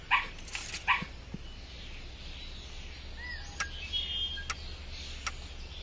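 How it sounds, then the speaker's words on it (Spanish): A husky dog in the video game Arctic Motel Simulator barks a few sharp times at the start, then makes softer yips and whimpers. Faint game clicks and tones sound against a low background hum, and no one speaks. "Esta chica lleva un perrito, un husky."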